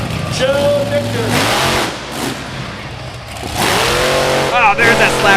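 Monster truck engine at the Monster Nationals, Indiana State Fair, Indianapolis, revving hard during a slap wheelie: loud surging roars rise and fall, with a crowd-filled arena ambience. An announcer talks excitedly over the noise.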